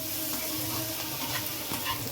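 Capsicum and broccoli fry in a pan with cumin powder, giving a steady close sizzle with occasional scraping stirs throughout.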